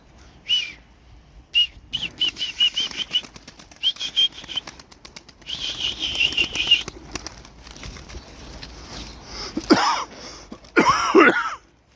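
Performance pigeons' wings flap in repeated fluttering bursts, close by, with whistling calls and a couple of loud rushing flurries near the end.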